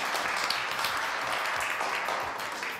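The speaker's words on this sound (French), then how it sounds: "On applaudit très très fort, Isabelle." A studio audience claps for Isabelle during a French news-style show, a short, steady patter of applause at moderate distance that fades a little toward the end.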